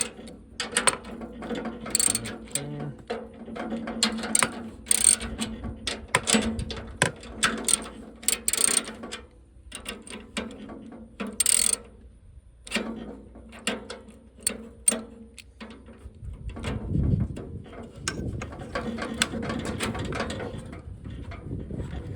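Bolts being loosened with a ratchet wrench while installing Lippert Solid Steps on an RV; rapid close clicking ratchet bursts repeat in runs with brief pauses, mixed with metallic clanks of the step hardware, and no talk.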